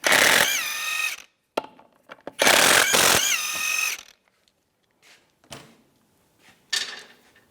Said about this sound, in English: Take the lug nuts off, use a 19mm socket.